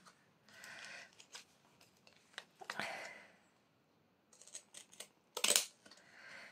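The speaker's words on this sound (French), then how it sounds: "je prends mes ciseaux cranteurs" Pinking shears snip through paper in several short bursts of crisp cutting, close by, separated by brief pauses.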